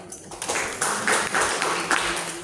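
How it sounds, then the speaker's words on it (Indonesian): A seated audience at an Indonesian government training-center year-end evaluation meeting breaks into applause, a few scattered claps growing into several fuller bursts of hand clapping that swell and ebb at moderate volume. "Tepuk tangan untuk kita semua."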